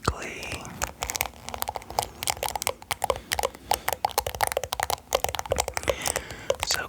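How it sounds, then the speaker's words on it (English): Crinkly material crumpled and rustled close up for ASMR, dense rapid crackles and snaps with a soft whispering voice underneath. "Crinkly."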